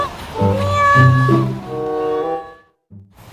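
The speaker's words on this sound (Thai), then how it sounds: "ได้ยินเสียงใครร้องเรียกไหมอ่ะร้องเรียกเหมียวเหมียวอีกแล้วอ่ะ" A loud, close kitten gives one long, drawn-out meow, followed after a short pause by a softer little mew, near the seaside at Hua Hin, Thailand.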